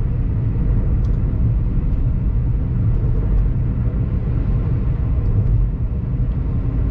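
Heavy Sunday traffic on the Kolhapur–Ratnagiri four-lane highway, cut through a hillside and still under construction, gives a loud, steady, close roar of passing vehicles with a constant low rumble and no speech.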